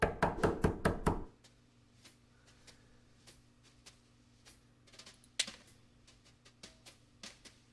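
About six quick, loud knocks on a door land in a tight burst, followed by a quiet stretch with only faint scattered taps and clicks.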